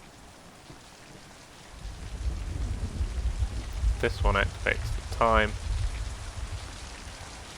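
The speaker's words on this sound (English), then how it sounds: "Hopefully it'll start raining and stay like that." Rain in the video game Mind: Path to Thalamus, a steady hiss of falling rain that swells into a heavier low rumble partway through, with someone talking briefly over it.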